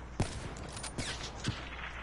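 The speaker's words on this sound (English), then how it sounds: "I just shot 2 bullets out of 1 shot." Gunshots in the Black Ops 3 video game: three quiet, evenly spaced shots over steady background game noise, faint and without speech.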